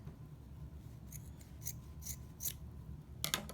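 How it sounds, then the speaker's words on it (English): Scissors snip through yarn loops of a pom-pom in a series of quick, faint crisp cuts over soft handling noise, ending with a close cluster of snips. "So I'm just going to stick my scissors inside the loops"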